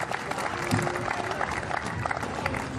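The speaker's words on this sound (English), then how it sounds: "Big round of applause to both our athletes." An audience at a STIHL Timbersports event claps in a broad wash of applause, with a voice speaking over it.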